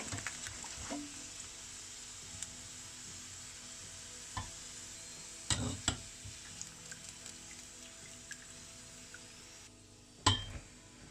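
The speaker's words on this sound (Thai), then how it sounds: "ทอดจนกว่าขนมเราจะเป็นสีเหลืองทองนะคะ" Sesame balls deep-fry in hot oil until golden, giving a steady soft sizzle with scattered stirring clinks and a few louder knocks near the end, no voices.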